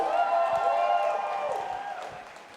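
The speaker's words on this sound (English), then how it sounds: "I want a big cheer for our officials." A crowd at a roller derby bout, Vienna versus Oslo, cheers and applauds the event officials, a sustained wash of voices and clapping that slowly fades toward the end.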